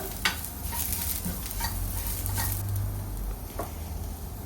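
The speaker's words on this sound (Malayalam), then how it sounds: "അത് മൂപ്പിക്കുക പിന്നെ കുറച്ച് കറിവേപ്പില അതിലേക്ക് ഇടുക ഒന്ന് സോട്ട് ചെയ്യുക" Turmeric and curry leaves sautéing in hot oil in a pan, a steady close sizzle with faint crackles and stirring scrapes, no voice.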